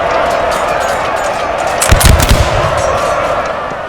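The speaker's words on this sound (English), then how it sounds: "Shots coming in from the side shots." Musket volleys crack from the flank in a Napoleon Total War battle at Campo Tenese in 1806, a loud cluster of booming shots landing midway over a steady roar of battle and crowd noise.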